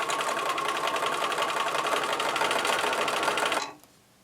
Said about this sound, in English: I'm going to start sewing on my 2 pieces of fabric